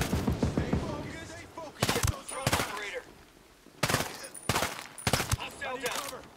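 Three-round bursts of gunfire in the tactical shooter Ghost Recon Breakpoint, several sharp close bursts in quick succession, spaced apart through the stretch with quieter gaps and some voice chatter between them.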